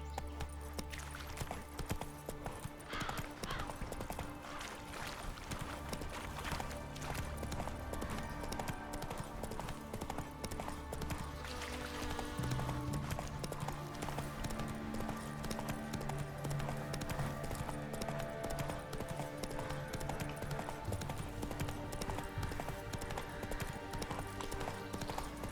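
Horse hooves clip-clop at a steady gallop on a dirt road in The Witcher 3, a continuous rhythmic patter under music, with a brief voice in the background.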